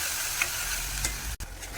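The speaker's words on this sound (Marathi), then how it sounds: "थोडंसं तेल सुटेपर्यंत आपण ह्याला हलवून घेऊ." Spice paste with mustard seeds and cumin sizzles in hot oil while being stirred for a puran gravy, a steady close frying hiss with soft scraping strokes and one brief sharp knock.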